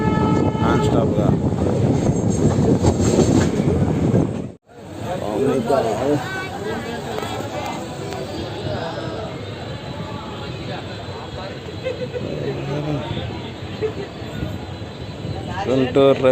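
A passenger train runs nonstop past Mangalagiri railway station, a steady loud rumble of wheels on rails with clattering rolling noise. It dips briefly to near silence and then resumes, with a voice talking over it.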